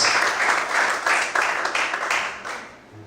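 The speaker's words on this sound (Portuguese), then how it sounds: "Você pode aplaudir o Senhor." A church congregation at a worship service claps in praise, several bursts of applause rising and falling in uneven waves before tapering off toward the end.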